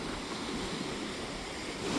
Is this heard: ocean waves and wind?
yes